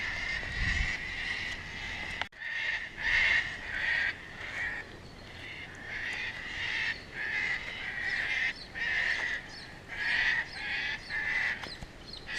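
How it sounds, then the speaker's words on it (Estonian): A flock of white parrots screeches loudly and repeatedly on a farm, harsh raucous calls coming in overlapping bursts close by. "Sellist lärmi need valged papagoid siin teevad."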